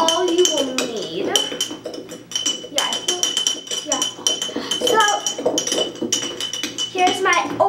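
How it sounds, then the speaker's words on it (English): A spoon clinks against a bowl while fizzy sherbet is stirred, with repeated scraping and tapping strokes under steady background talk and kitchen clatter. "so I mix with my spoon"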